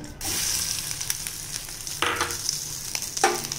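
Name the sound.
catla fish roe frying in hot oil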